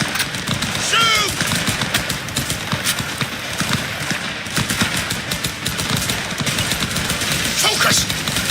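Dense gunfire from a Cyberpunk video game battle, loud and continuous with rapid crackling shots layered over a busy mix, with shouted voices breaking through now and then.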